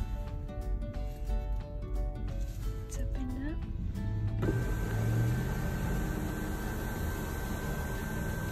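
Nissan Murano SUV being driven: steady road and engine noise from inside the cabin, a low, continuous rumble and hiss that changes partway through and then holds even.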